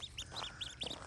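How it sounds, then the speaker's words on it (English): Two baby ducklings on a farm peeping in soft, high chirps, several brief overlapping calls in about a second, faint and close with no talk. "Two little duckies ready to go down yonder. Okay. Listen at them."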